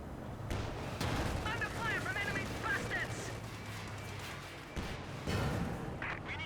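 A Pak 40 anti-tank gun firing in the strategy game Company of Heroes 2, a few sharp booming shots amid battlefield noise, mid-distance, under steady commentary from a caster.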